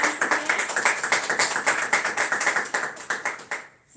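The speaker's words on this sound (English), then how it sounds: "Let's clap for her once again." A class in a live offline session claps for a student, a lively run of quick, evenly paced hand claps close by that stops abruptly near the end.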